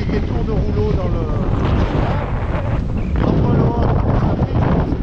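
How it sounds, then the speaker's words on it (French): Strong wind of about 25 knots roars across a sailboat at sea, sailing at 90 degrees to the wind on a passage from Zakynthos toward the Strait of Messina. A loud, continuous rush buffets the microphone throughout. "Là il y a 25 nœuds et on est à 90 degrés du vent."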